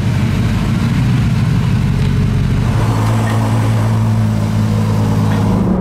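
A car engine hums steadily while cruising, with a loud, continuous low drone and road noise that settles into a smoother tone partway through, with no one speaking.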